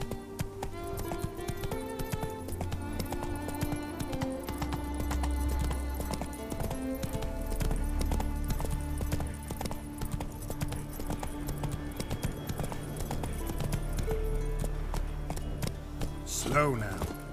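Roach, a horse in The Witcher 3, trots with steady, even clip-clopping hooves close by throughout, while a voice speaks briefly over the rhythm.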